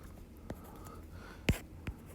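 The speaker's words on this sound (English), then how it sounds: "Let me write this." Marker or chalk strokes on a board during a church teaching session, a few short scratchy marks spaced apart with one louder stroke near the middle, quiet room behind.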